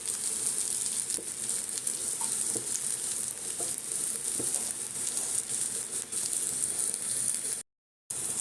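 Lentil dumpling curry gravy bubbling steadily in a pan, a continuous close hiss and sputter with faint occasional clinks, no talking.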